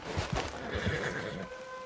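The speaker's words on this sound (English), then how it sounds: "Put her horse somewhere safe." A horse in the Red Dead Redemption 2 video game gives a loud, close whinny while hooves clip-clop in a steady rhythm underneath.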